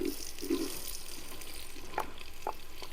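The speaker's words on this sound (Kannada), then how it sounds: "ನೆಕ್ಸ್ಟು ಈರುಳ್ಳಿ ಇಸ್ ಗೋಯಿಂಗ್ ಇನ್" Onions go into a pan for a village-cooked white chicken pulao and sizzle with a soft, steady frying hiss and a few faint stirring clinks, with no talking.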